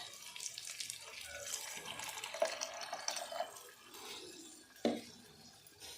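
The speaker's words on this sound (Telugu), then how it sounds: "ఫైనల్గా చింతపండు రసం నేను దాంట్లో పోసేస్తున్నాను." Tamarind juice is poured into a pan of fried pakodi pieces for pulusu, a steady close watery splash and trickle with a couple of sharper clinks, no talking.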